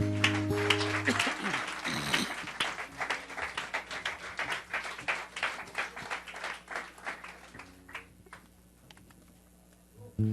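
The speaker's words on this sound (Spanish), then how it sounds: "Dale un aplauso, Señor." Congregation applause during a Spanish-language church worship service, a fairly faint, uneven patter of clapping hands spread across the room, with scattered voices and a brief pause near the end.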